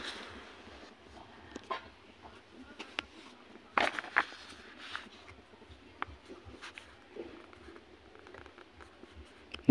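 A pen scratches across paper in short bursts and strokes, close and fairly quiet, with faint room noise and no talking.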